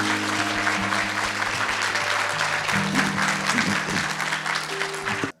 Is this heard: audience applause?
yes